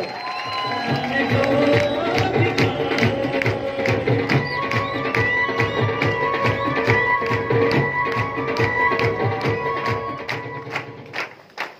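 A large audience stands and gives a loud ovation for Trilok Chand Chhabra, with rhythmic clapping and cheering from the crowd carried over steady background music for about ten seconds before tapering off.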